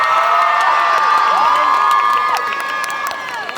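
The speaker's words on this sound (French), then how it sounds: "Donc un tonnerre d'applaudissements pour eux, s'il vous plaît." A cosplay contest audience at a Japan-themed convention cheers and shouts loudly and continuously, a dense crowd roar with whoops and high voices that fades slightly toward the end.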